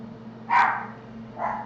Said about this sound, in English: Sorry if you hear my dog barking, by the way.